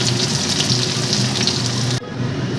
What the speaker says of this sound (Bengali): পেঁয়াজটা কুচিয়ে নিয়েছি বেরেস্তাটা আগে ভেজে নিই